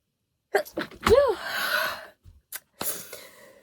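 A single sharp sneeze bursts out close up, preceded by a quick inhale and followed by a few soft breaths and small rustles.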